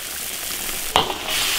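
Mapo tofu simmers in a wok over low heat with a steady close hiss and sizzle, broken once by a brief sharp clink of a utensil against the pan.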